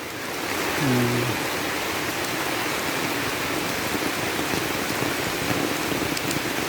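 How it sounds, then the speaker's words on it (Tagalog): Heavy rain pours steadily, a loud, dense hiss of drops hitting surfaces close by, with a brief tonal sound early on and no talking. "malakas po ang ulan ah"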